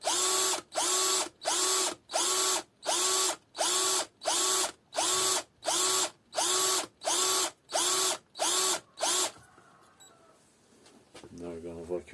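A power drill whines in a dozen short, evenly spaced bursts, drilling about 6.5 millimetres into the metal inlet manifold of a Vauxhall Opel 1.9 CDTI, then stops, leaving faint clicks and handling noise.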